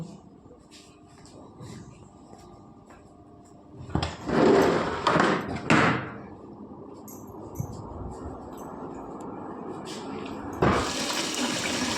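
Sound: washing rice in water

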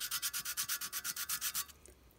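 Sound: sanding with fine sandpaper on clockwork locomotive part

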